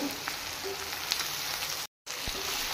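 Garlic sizzles in hot oil while an Assamese duck fry is cooked, a dense, close crackle with small pops, briefly cut by a silent gap before the frying resumes.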